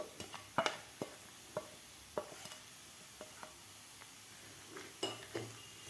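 Mung dal sheera with ghee and fried dry fruits being stirred in a pan, a series of scattered scraping and clinking strokes of a spoon against metal over a soft background, close and fairly quiet.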